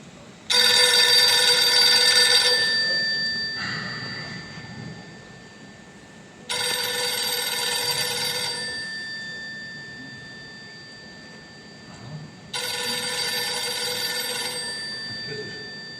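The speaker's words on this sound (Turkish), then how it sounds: "Niye götürmürsünüz telefonu? Niye kaldırmırsınız? Ben bayaqdan zəng edirəm." A telephone rings unanswered in three long electronic bursts separated by pauses, clear and fairly close, with no voices.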